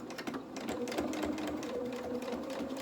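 A sewing machine back tacks stitches right to the edge of a machine-appliquéd piece, a quiet, close, rhythmic needle chatter running continuously throughout.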